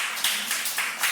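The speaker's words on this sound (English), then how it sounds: "Give him a big round of applause." A live comedy show audience claps for comedian Uy Nguyen, a brief burst of scattered, fairly close hand claps with a few distinct louder slaps.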